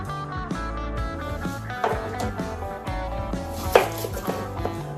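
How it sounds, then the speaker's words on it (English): A kitchen knife dices a Vidalia sweet onion on a cutting board, with quick, steady chops running throughout beneath loud tonal music. "we're going to cut up an onion"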